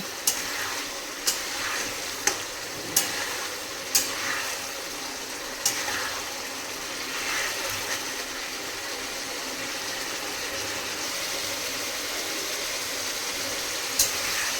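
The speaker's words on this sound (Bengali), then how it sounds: "ভালো করে কষিয়ে নেব" Potato and paneer curry is stirred and sautéed in a pan, producing a soft, continuous sizzle broken by a series of sharp clinks from a spoon on the pan early on and one more near the end.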